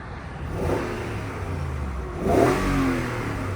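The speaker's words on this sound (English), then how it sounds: "I'll just rev the car and check it's not the engine that's making the noise" A Land Rover Range Rover L322 engine revs up briefly and settles back to a smooth, steady idle, close by, with no voices.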